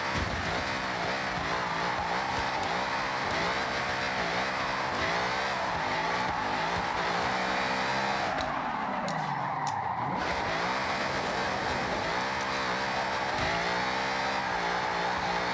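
A loud Ford Mustang Dark Horse engine with 16 pounds of boost in Forza Horizon 6 roars steadily with harmonic revving, dipping in pitch midway as it shifts and then climbing again, with no talking.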